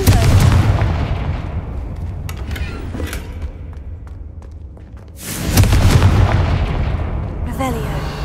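A Confringo fire-blast spell cast in Hogwarts Legacy: a loud booming burst with rumbling decay, then a second heavy blast erupting near the end, close and forceful.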